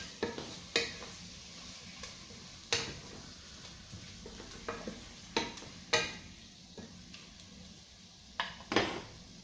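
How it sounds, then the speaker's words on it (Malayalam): Chicken is stirred in a pot for majboos, a quiet background of faint frying with a series of distinct spoon knocks and scrapes against the metal, spaced irregularly and heard close. "ചിക്കൻ ചേർത്ത് നന്നായിട്ട് ഒന്ന് ഇളക്കുക."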